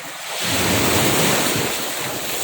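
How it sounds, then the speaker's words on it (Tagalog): Steady roar of ocean surf swelling and washing in, with wind buffeting the microphone throughout. "medyo maalon pero malilit lang naman"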